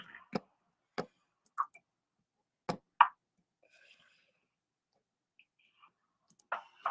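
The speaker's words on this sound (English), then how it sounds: "If I can click the right button here" A button is clicked several times: sharp, close, isolated clicks spaced irregularly over near silence, with a few faint soft murmurs between them.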